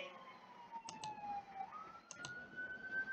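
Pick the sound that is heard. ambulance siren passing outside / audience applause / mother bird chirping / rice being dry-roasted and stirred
ambulance siren passing outside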